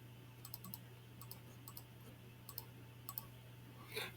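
A computer mouse clicks in quick pairs, the crisp, close, quiet double-clicks repeating several times over a steady low hum.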